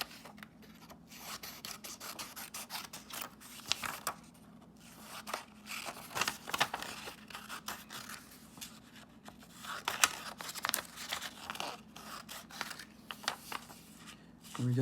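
Paper words are cut out by hand, with soft scraping, rubbing and snipping sounds that come in uneven bursts close by, mostly quiet, with no talking.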